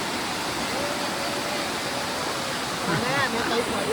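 Water pouring at Nazar Mata waterfall makes a steady, broad rushing roar from start to end, with voices calling faintly over it near the close.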